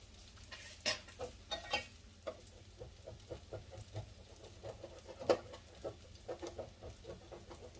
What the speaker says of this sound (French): Je gratte un petit peu sur ma plaque parce que tout à l'heure, je l'ai nettoyée.